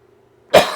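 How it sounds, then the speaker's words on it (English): One loud, close cough bursts out after near-silence, a harsh rasp that trails off briefly. "I'm so sorry for all the coughing."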